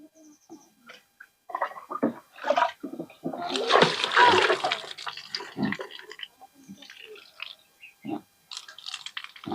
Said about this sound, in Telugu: ఇందులో నీళ్లు పోస్తున్నాను, నిండుద్దని పూర్తిగా.